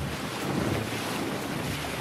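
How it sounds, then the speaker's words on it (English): Broadband rush of wind and waves at sea aboard a sailboat with all sails up, steady and close with microphone buffeting, no voices. "Sun is shining. The sea's calm. All the sails are up."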